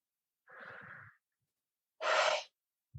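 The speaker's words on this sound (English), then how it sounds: "Breathing." Two slow, deep breaths, a soft drawn-in inhale followed by a fuller, louder exhale, close and alone in silence.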